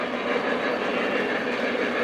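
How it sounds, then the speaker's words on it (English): A Lionel model coal train runs along the track with a steady, loud, continuous rolling rumble and rattle, close by and without talking. "we're chasing the back of this coal train with the switcher."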